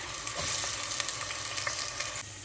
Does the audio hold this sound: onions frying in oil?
yes